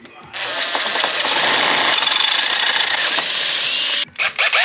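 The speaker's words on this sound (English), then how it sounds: "We're just going to drill a hole so that we have our wires coming through here." A power drill whines steadily for several seconds, loud and close, boring a wiring hole through motorcycle handlebars on a Harley-Davidson Dyna, then stops abruptly with a few short bursts at the end.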